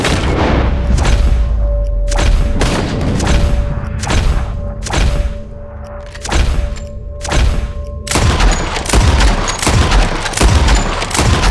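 In Red Dead Redemption 2, gunfire blasts at a flock of birds: a loud, rapid barrage of booming shots in uneven bursts, some firing together in a dense volley, with no talking.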